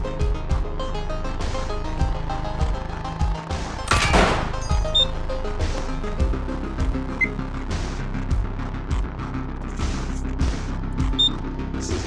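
Gunfire in the video game Receiver cracks out in sharp shots against a busy, steady game soundscape, with one heavier blast standing out near the middle.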